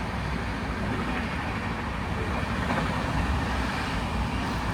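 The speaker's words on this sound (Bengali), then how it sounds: "হাওড়া মুম্বাই মেল দ্রুতগতিতে ওভারটেক হচ্ছে Howrah two Mumbai CSMT Mumbai mail." Howrah–Mumbai CSMT Mail passenger train overtaking at speed, a loud continuous broadband roar and rumble of wheels and rails that holds steady throughout, close by and without a break.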